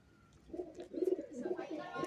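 Racing pigeons kept for a flying tournament coo in a close, rising run of throaty low calls, several murmurs overlapping and growing louder toward the end.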